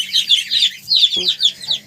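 Goslings with geese in a farmyard, giving a steady run of high, close peeping calls in quick overlapping bursts over a faint low hum, with a brief low sound partway through.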